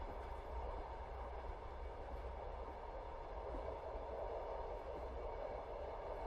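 A train rolling along rails on a winter night journey, heard from inside as a steady, muffled rumble with a soft airy hiss, unbroken and even for several seconds, no voices.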